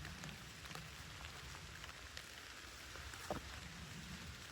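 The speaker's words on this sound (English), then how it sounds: "Still raining." Rain falling on the Appalachian Trail near Derrick Knob shelter in the Great Smoky Mountains, a soft continuous patter of drops on surfaces with occasional closer, sharper drips, faint and steady throughout.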